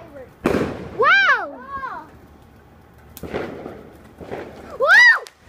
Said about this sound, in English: That's like tiny little fireworks.